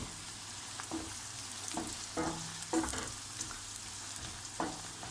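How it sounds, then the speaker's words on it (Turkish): Onions sizzle and fry steadily in a pan, with occasional stirring scrapes cutting through the constant crackle; no talking, fairly quiet and close. "Soğanlarımı kavuruyorum."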